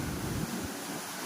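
Rough sea surf churns during Typhoon Nando along a flooded coastal lot, a steady broadband roar of waves mixed with heavy wind buffeting the microphone, loud and continuous with no voices.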